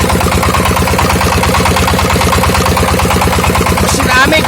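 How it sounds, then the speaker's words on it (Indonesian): A 20 HP Amik engine with water circulation cooling drives a Niagara 6-inch water pump drawing from a bore well to irrigate a corn field, running loud, close and steady with a rapid rhythmic chugging throughout. "Untuk mesinnya saya menggunakan mesin Amik."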